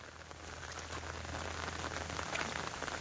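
Unseasonal rain falls steadily on a paddy field, a soft continuous patter of drops with a low hum underneath and no voices.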